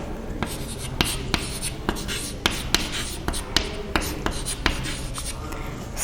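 Chalk or marker taps and scratches on a classroom board as an equation is written, a close, irregular series of sharp strokes with quick pauses between them.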